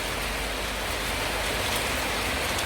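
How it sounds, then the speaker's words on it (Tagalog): Morning rain falls steadily in Pafos, Cyprus, a dense, even hiss of drops filling the scene at a moderate level with no voices. "It's raining in Pafos, Cyprus."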